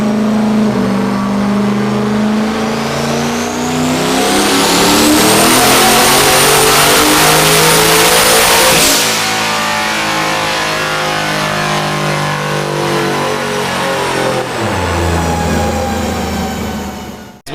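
A turbocharged LS1 engine in a Trans Am roars on a dyno, climbing steadily to a loud, high-revving peak with a rising turbo whine, then cutting off and winding back down.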